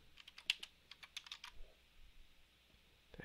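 Keys clatter on a computer keyboard in a quick, uneven burst of close taps, then slow to a few scattered strokes over a quiet room.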